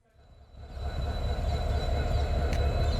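The Sethu Express rolls up to a level crossing at a railway gate, a deep rumbling roar that swells quickly from near silence and then holds loud and steady, with a brief high squeal near the end.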